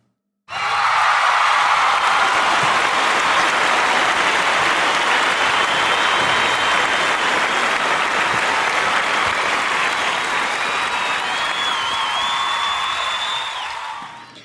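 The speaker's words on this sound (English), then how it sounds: "The audience clapped and cheered as each girl stood and joined Ruby on stage." An audience claps and cheers as girls join a stage during a ceremony, with dense, sustained applause rising sharply, holding for about thirteen seconds, then tapering off.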